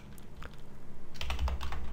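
A file name typed on a computer keyboard in a code editor: quick, irregular key clicks, close and fairly loud, growing denser and heavier toward the end, with no talk.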